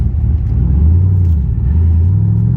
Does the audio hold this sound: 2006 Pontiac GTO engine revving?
yes